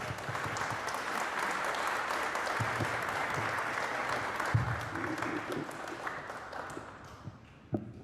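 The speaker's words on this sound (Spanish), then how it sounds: "Vamos a recibirlo con un aplauso." An audience at a lecture session on twentieth-century political and social movements breaks into sustained applause welcoming a speaker, dense and even clapping that fades out toward the end, with a few louder knocks.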